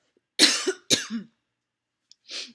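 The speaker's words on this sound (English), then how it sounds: "I'm sorry, I keep coughing." Two harsh, close coughs come in quick succession, then a pause and a shorter, breathy third cough after a moment of silence.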